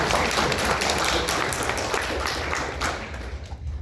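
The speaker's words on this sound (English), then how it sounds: "You guys keep catching me off guard with the applause." Applause from the audience at an anime convention panel introducing Touhou: thick, loud, continuous clapping from a packed room that tapers off slightly toward the end.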